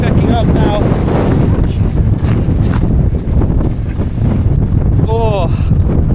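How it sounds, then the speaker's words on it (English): Strong gusty wind buffets the microphone with a loud, constant roar on a road through Charyn Canyon in Kazakhstan, while a person's voice briefly sounds under the rush. "It's so windy."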